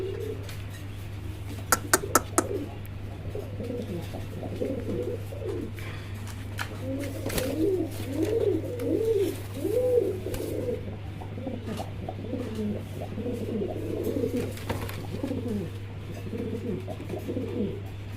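A pair of large German Beauty pigeons coo repeatedly in rolling, throaty phrases over a steady low hum, with a few sharp clicks early on; no voices.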